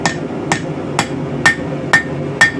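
Six evenly spaced hammer blows ring on hot rebar scrap being tapered at a forge, each a sharp close metallic strike with a brief ringing tone over low background rumble.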